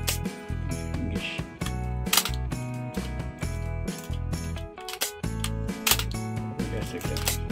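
A Canon F-1 film camera's shutter release fires in a run of crisp mechanical clicks and snaps, up close, over steady background music.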